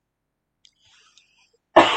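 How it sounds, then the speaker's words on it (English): A man gives a single sudden loud cough, close to the microphone, right at the end after near silence with a few faint clicks. "apologize for the cough."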